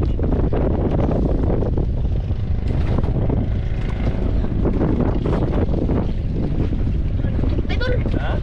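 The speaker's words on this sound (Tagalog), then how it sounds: "Grabing hangin ito mga idol." Strong amihan wind blows across a fishing boat at sea, a loud, constant roar buffeting the microphone, with voices talking over it now and then.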